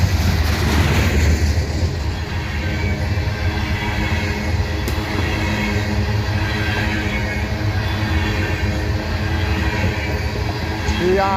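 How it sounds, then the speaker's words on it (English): Loaded freight cars with worn, noisy wheels roll steadily past at close range in Abbeville, a continuous loud rumble and grind with faint rhythmic clatter throughout, without anyone speaking. "More noisy wheels."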